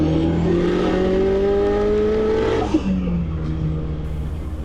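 A Honda K24-swapped BMW E36 pulls hard from about 40 km/h on a road in Johannesburg, the engine note climbing steadily in one strong rise, then dropping sharply at a shift and settling into a lower, fading drone.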